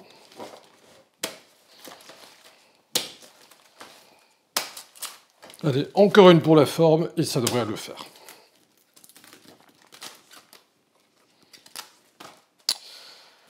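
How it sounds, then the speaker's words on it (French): Green cabbage leaves are cut with a knife in a kitchen, giving sharp intermittent crunching chops and a dense burst of cutting in the middle while a person talks between the strokes. "On coupe d'abord toutes nos feuilles, comme ça."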